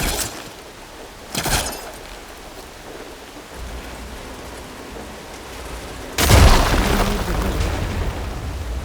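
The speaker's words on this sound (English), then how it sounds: "Igniting the fire gleam should clear it." A firegleam ignites and explodes in Horizon Forbidden West, a loud, booming burst with crackling debris that erupts near the end over a low ambient game soundscape, preceded by a couple of shorter thuds.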